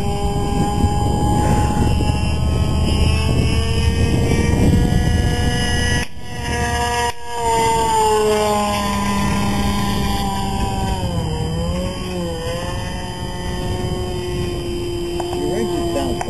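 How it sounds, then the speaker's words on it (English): A small model airplane engine drones steadily with a wavering, uneven pitch that dips and sputters, heard through wind and nearby talking. "Your engine sounds funny, Cus."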